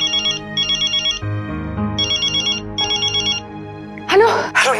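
A phone ringtone in a Hindi TV drama rings in repeated electronic bursts over a low music bed, pausing once, before a voice breaks in at the end.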